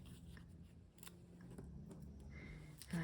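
Scissors snip paper pieces for a handmade six-petal flower card, a few quiet, close cuts spaced apart over low room noise.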